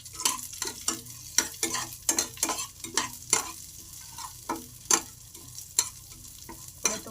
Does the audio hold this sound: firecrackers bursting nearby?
no